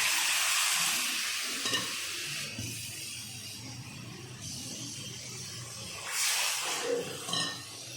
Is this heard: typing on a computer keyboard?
no